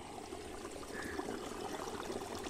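A faint, steady stream of water runs from a tap outdoors, a soft continuous pour and trickle heard alone at low level for a few seconds.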